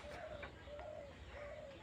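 Repeated soft cooing of doves, three low rolling calls at an even pace, fairly close over a steady outdoor hum.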